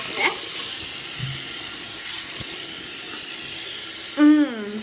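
Tap water running steadily into a sink for a face wash, a continuous hiss with a brief squeaky tonal burst near the end.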